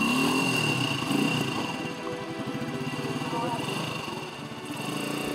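A motorcycle engine labors over difficult terrain, throbbing and revving unevenly at close range while a voice talks over it.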